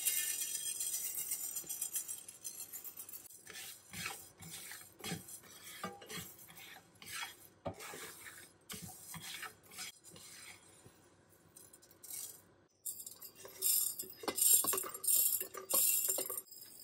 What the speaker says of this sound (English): Now I'm filling up the spice jars that I keep near my stove as well.